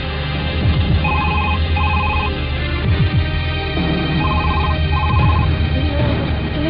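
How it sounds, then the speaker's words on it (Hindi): A telephone rings in a household scene from a Hindi TV drama. It gives two pairs of repeated double trills, clearly audible over a busy background bed. "फोन क्यों नहीं उठा रहा कोई?"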